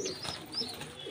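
Pigeons in a loft coo softly nearby while being caught and handled, short low throaty calls with faint rustling over a brief moment.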